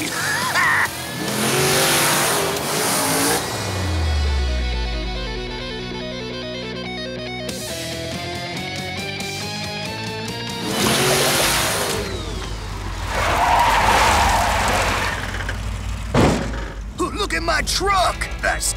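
Cartoon monster truck revving hard and skidding, a loud rising engine roar with tire squeal, mixed with music and excited cartoon voices talking over it.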